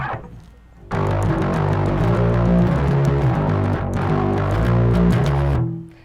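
Electric guitar played through a distortion pedal with its filter knob turned fully right, giving a loud, sustained, saturated chord-like tone that rings for about five seconds, briefly dipping midway, then cuts off.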